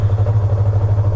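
A Yamaha MT-07 motorcycle engine running steadily close by, a low pulsing throb with a regular rhythmic beat, loud and alone with no talk.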